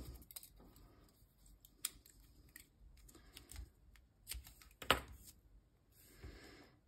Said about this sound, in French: J'ai mes ciseaux qui sont là.